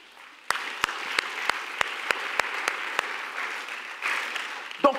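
A church congregation claps together in acclaim of God, sharp evenly spaced hand claps over a broad wash of applause, a sustained crowd sound that swells briefly near the end.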